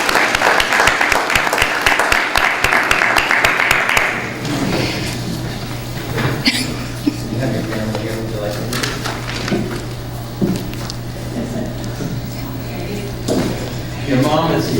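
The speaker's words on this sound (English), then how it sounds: "So we'll give a round of applause to Taylor George." Applause at a city council meeting for a young soccer player, a burst of clapping that fades after a few seconds into room noise, knocks and scattered voices talking.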